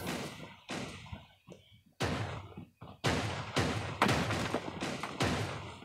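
Shotgun blasts from the video game Creative Destruction boom out one after another in loud, close, separate shots, some spaced apart and others fired in quick succession, with no talking.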